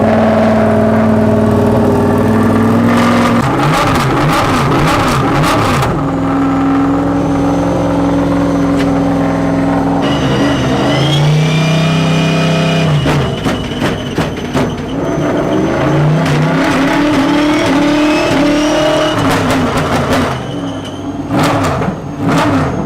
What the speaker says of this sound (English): then they can actually start the car